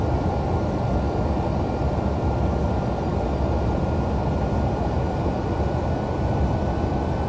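A simulated MD-11 airliner on RNAV approach to runway 20L at Bangkok in X-Plane 12 gives a loud, steady jet-engine roar and broadband rumble that holds unbroken throughout.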